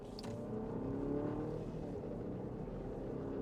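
A 2023 Jeep Grand Cherokee 4xe hybrid accelerates at part throttle, heard from inside as a steady, rising engine and motor hum, fairly quiet with a faint click near the start.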